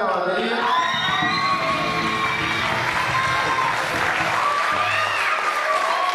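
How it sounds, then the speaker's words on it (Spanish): A crowd applauds and cheers for a band's members after introductions, dense continuous clapping with whoops and shouts, loud and close, sustained throughout. "Un fuerte aplauso para todos."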